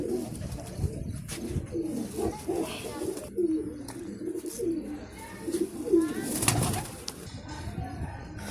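Pigeons coo repeatedly in a coop, soft throaty calls rising and falling close by, with a few chirps and brief wing flaps, while people talk faintly in the background.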